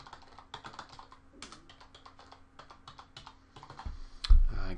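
Fingers tapping out a username and password on a computer keyboard, quick uneven bursts of close, light key clicks ending in a heavier press, with no talking.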